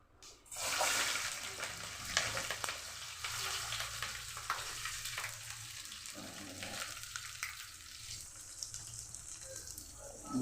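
Vegetables for a pumpkin stew frying in hot oil in a pan, a loud steady hiss and sizzle starting abruptly and continuing close-up with occasional stirring scrapes.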